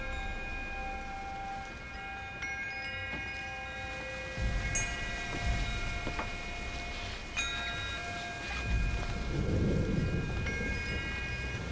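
Low rumbles of thunder roll in steady rain, swelling louder toward the end, with faint high tones ringing in the background.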